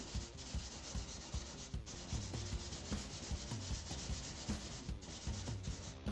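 Close, steady back-and-forth sanding of a guitar neck with 800 grit sandpaper, a continuous rubbing scratch with rhythmic strokes and small knocks, heard alone.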